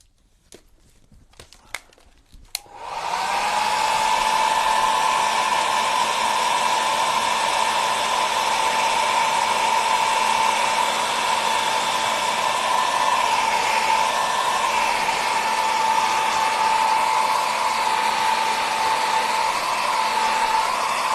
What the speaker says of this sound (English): So we gotta dry this completely, and then we're going to trace out our image. So let me get the blow dryer.